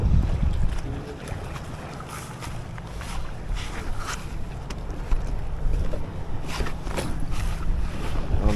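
Wind buffets the microphone on a small fishing boat out on Swan River in Perth, a steady low rumble with gusts and faint water and hull knocks, no talk heard.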